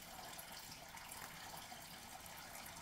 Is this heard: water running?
yes